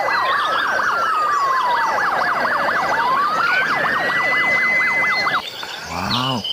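Toy fire truck siren wailing loudly and continuously, its pitch sweeping up and down in repeated cycles with a fast warble, then cutting off near the end as a short rasping toy sound follows.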